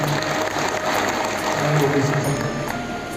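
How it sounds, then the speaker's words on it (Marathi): Farmers at an agricultural guidance meeting on pomegranate orchard management give a steady round of applause, a dense continuous patter of many hands clapping throughout with a faint murmur of voices beneath. "आपण सर्व शेतकऱ्यांतर्फे सरांचे टाळ्या वाजून आभार मानूया"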